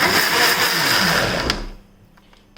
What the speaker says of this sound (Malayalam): കുറച്ച് വെള്ളം ഒഴിച്ച് നമുക്കിതൊന്ന് അരച്ചെടുക്കാം.